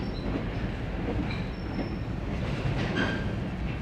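A Mount Hood Railroad train slows on the track before a steep descent, its wheels rumbling with faint squeals and clicks close by, loud and steady without speech.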